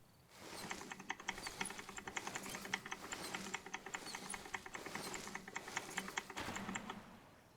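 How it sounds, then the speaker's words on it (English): Rapid clicking and clacking of a computer keyboard being typed on, a steady, busy patter of keystrokes that runs throughout at low volume with no voices. "You hear the clicking clacking on my keyboard?"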